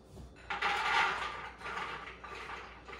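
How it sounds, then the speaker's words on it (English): A food processor runs on raw soaked black-eyed peas, giving a near, loud grinding whir that rises after a short quiet start and continues with uneven pulses and chopping rattles. "I'm going to go right into a food processor with them."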